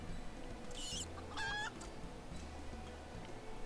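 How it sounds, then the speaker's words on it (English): Chickens in Final Fantasy XIV give two brief bursts of clucking against a low, steady game background. "Your other chickens are resting easy now"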